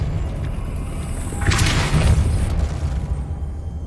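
A Depulso spell fires in Hogwarts Legacy, a single loud whooshing burst with a booming impact that swells midway and then fades over a low, steady rumble of game ambience.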